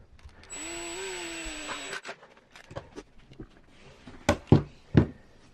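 A power driver spins a screw into the link mount of an Axial SMT10 Max-D RC crawler axle in one steady whine of about a second and a half, followed by several sharp clicks and knocks of parts being handled, fairly quiet and close.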